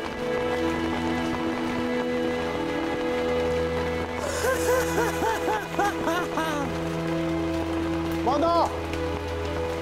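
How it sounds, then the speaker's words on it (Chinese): Steady rain falls through a dramatic television scene, a continuous wash running beneath excited shouting voices and background music. "好啊，好啊，下雨了！"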